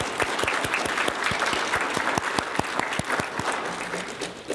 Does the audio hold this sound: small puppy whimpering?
no